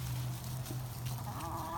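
Backyard chickens cluck and murmur while feeding in a frenzy, with low continuous fowl calls and a few sharper notes over a busy outdoor bed.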